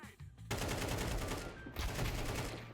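Video-game gunfire erupts in dense, rapid automatic bursts that fill the scene almost without pause, loud and close.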